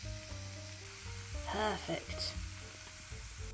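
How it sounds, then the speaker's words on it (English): Dumplings frying in a pan nearby give a faint, continuous sizzle under quiet kitchen noise, with a short spoken word partway through. "if you hear faint sizzling sounds in the background, it's because I'm making some dumplings"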